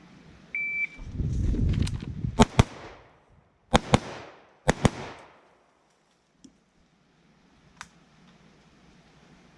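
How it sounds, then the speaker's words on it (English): Six sharp gunshots, fired in three quick pairs, crack out during a close-quarters corner-fed button-hook training drill in a riverbed, each pair ringing briefly before a quieter stretch with a few faint clicks. "6 shots in"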